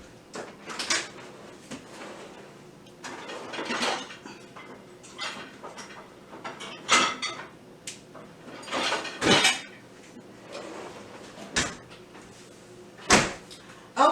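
Kitchen tongs and utensils being fetched in a home kitchen, with sharp intermittent clatters of metal, drawer and cupboard knocks spaced irregularly at moderate loudness.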